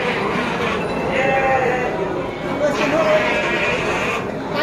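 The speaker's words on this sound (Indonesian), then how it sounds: "Kita akan lanjut untuk mereview domba yang ada di pasar Tanjung Sari." Garut sheep bleat at the Tanjungsari livestock market. Several wavering bleats at mid distance sit over a crowded, noisy background, and someone talks throughout.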